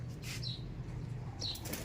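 Soft bursts of wings flapping twice, about a second apart, over a low steady background hum, fairly quiet and close by.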